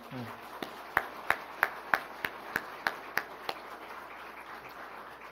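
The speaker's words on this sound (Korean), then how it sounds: "우리 한번 박수 한번 할까요?" Congregation in a Korean church service claps along, a faint, evenly spaced series of about ten distinct claps at a steady rhythm, heard distant against a quiet room hum.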